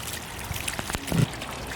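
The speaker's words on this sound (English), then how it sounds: "So I've got 2 hose pipes filling it up." Two hose pipes filling a swimming pool, a continuous rushing trickle of water with scattered splashy bursts, heard up close and fairly loud.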